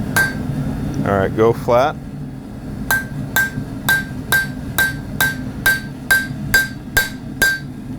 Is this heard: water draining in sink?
no